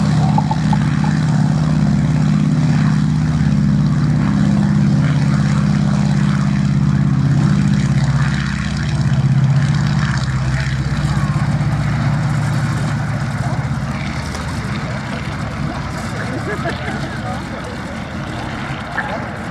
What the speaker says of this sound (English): And here it is, on the roll, the Avro Anson 1.